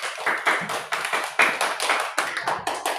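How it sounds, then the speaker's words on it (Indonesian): A school class claps together in a quick, uneven burst of applause, lively and close, with no talking over it. "tepuk tangan untuk kelompok 1."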